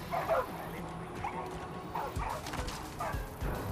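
In the Far Cry 5 game, a dog barks in a few short, sharp bursts spread across the moment, mid-distance amid faint ambient game noise, with no clear talking.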